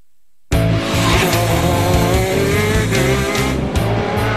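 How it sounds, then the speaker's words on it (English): An Italian-made racing kart with a one-cylinder 125cc engine screams at high revs, loud and close, its engine note rising and falling as it drives, starting abruptly after a brief silence. "This Italian-made racing kart, with its one-cylinder 125cc engine, reaches speeds of 180 kilometers per hour."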